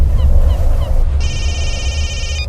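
A telephone in a Telugu movie scene rings with one steady, high electronic trill lasting just over a second, loud over a low background rumble.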